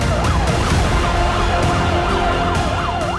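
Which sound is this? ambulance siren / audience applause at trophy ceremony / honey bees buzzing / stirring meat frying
ambulance siren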